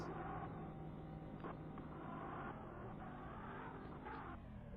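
Car engine from Need for Speed on the 3DO video game, a steady whirring drone with a broad rumble that runs throughout without pause.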